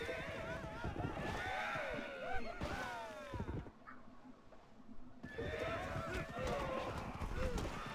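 Horses in a Civilization strategy game whinny and neigh repeatedly over a steady clatter of running hooves, a dense, loud stretch broken by a brief lull before the galloping and neighing resume.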